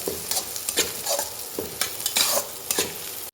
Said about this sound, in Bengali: হিংটাকে গুঁড়ো করে রেখেছিলাম হিংটা দিয়ে দিলাম